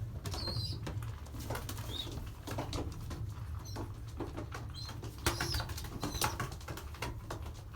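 Young pigeons settling into a new loft, with soft wing flaps, light pattering and scattered faint calls over a steady low hum, fairly close and without talk.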